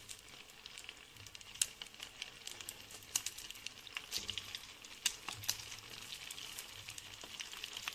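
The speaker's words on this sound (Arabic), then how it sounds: "قلي الكبة." Bulgur kibbeh fries in hot oil, a steady soft sizzle scattered with sharp crackles and pops, heard up close with no talking.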